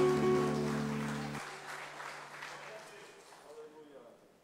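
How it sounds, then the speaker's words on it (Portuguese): A church congregation at an Assembly of God service claps in praise to the Lord while sustained music fades out early, the applause gradually thinning and growing quieter over a few seconds. "Você pode aplaudir ao Senhor"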